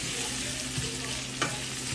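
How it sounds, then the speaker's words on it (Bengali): Bombay duck fish frying in a pan, giving a steady close sizzle with a couple of brief stirring scrapes and no talk. "এটা বেশ ভালো করে ভেজে নিতে লাগবে।"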